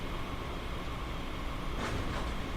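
A blue Japanese train in Train Simulator 2021 runs with a dense, steady rumble and rolling noise, close and loud throughout, with a brief brighter swell near the end.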